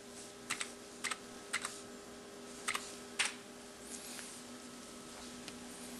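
A password tapped out on a computer keyboard: about half a dozen crisp, separate keystrokes in short clusters, then fainter taps over a quiet electronic hum.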